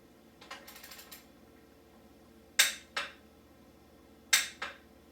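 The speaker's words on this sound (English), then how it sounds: "now we've got both the front and the rear linkage pivot bolts tightened and torqued to spec with the blue Loctite" Torque wrench ratchet clicks while tightening the linkage axle nuts on a KTM 300 XC dirt bike: a few sharp ratcheting passes, then two pairs of crisp clicks, close and clear over a quiet background.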